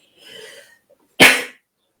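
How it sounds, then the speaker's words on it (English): A single loud sneeze bursts out sharply after a soft, breathy intake, then silence follows. "I'm going to sneeze in a minute"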